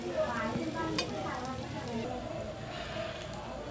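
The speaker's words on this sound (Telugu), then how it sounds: "ఒక్కసారి మళ్ళీ కలిపేసుకుందాము" Potato fry curry being stirred in a pan, a steady scraping and soft sizzle under a close voice talking, with a few sharper clacks of the spoon against the pan.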